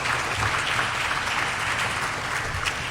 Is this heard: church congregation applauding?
yes